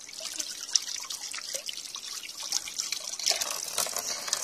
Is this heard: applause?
no